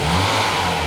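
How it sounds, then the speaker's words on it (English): A Mercedes 300E W124 engine, previously stalling and missing, revs up smoothly and steadily for a brief moment, a close, even mid-pitched roar without stutter. "now when I rev it, it just revs up smoothly"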